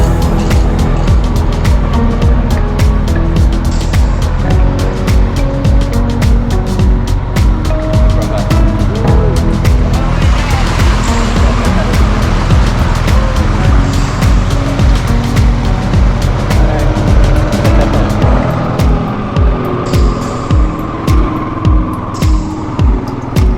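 A car drives steadily along a road in Bahia, Brazil, near Algodões, with continuous engine and road rumble throughout and a pulsing, rhythmic thump toward the end, loud and close.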